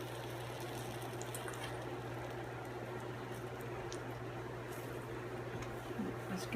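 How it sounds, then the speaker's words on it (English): Flour cooking in melted butter in a pan for a roux paste for homemade cream soup, a steady soft sizzle and bubbling hiss held close and continuous, with no talking. "I'm gonna cook this flour off a minute."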